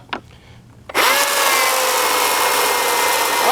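A power saw bites into scrap junk wood in a firewood yard, starting abruptly after a short quiet lead-in and then holding a loud, steady, close-up cutting roar for the rest of the clip.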